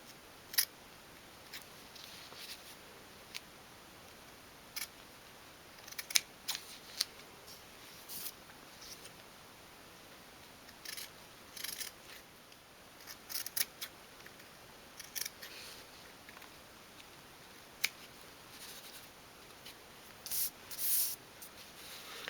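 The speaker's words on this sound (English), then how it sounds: "I'm going to snip away the squares of fabric at each corner" Small scissors snipping away the corners of fabric for a dolls house cushion, a long run of crisp, close clicks and snips in irregular bursts over a quiet background.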